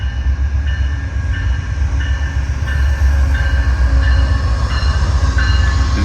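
An Amtrak passenger train, the Pennsylvanian, with two private cars on the rear, rolls past close by at Altoona, Pennsylvania, a loud steady rumble with rhythmic wheel clicks and faint metallic squeals.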